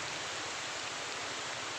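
Steady rain falling outdoors in wind, a continuous even hiss of fairly faint, dense patter with no voices.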